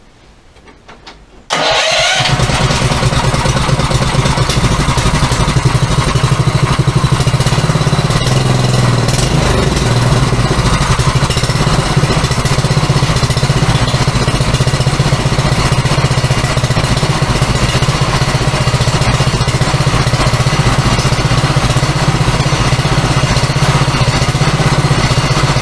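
A small shed-built cyclekart engine fires up after a brief quiet moment and then runs steadily, a loud, continuous close-up putter and drone that holds without pause.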